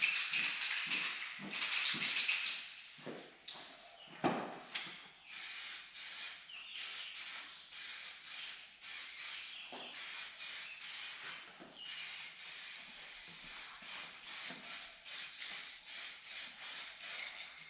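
A spray gun lays down a second coat of clear coat over rocker panel repairs on a 2500HD truck, a steady close hiss broken by short pauses as each pass starts and stops.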